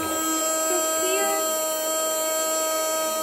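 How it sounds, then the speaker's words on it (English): A tiny vacuum made for cleaning a computer keyboard runs with a steady, even electric hum and whine that holds at one level throughout, close up and continuous. "Video introducing our tiny vacuum named Henry"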